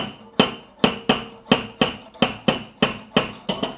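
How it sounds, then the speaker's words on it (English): Light hammer taps on Subaru car body panel metal during finesse bodywork, about a dozen sharp, evenly spaced metallic strikes with a ringing tone, close and clear with no talking. "Very light little taps. No big hammer taps necessary for this."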